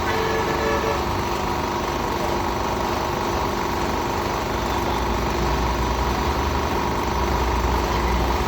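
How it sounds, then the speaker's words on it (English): A window air conditioner's compressor runs as a steady, loud mechanical hum with constant droning vibration and no change across the stretch. "That shows that the compressor has started."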